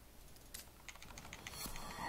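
Keys clatter on a computer keyboard while a Battlefield Hardline game is being played, a few quick, uneven, faint taps over a low background hum.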